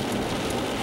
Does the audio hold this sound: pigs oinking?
no